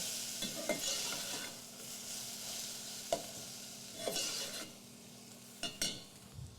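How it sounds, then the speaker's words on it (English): A spoon scraping and stirring a paste into a pot with onion, low background sizzle broken by a few distinct scrapes and knocks against the pot, fairly quiet. "scrape it all up into the pot with our onion"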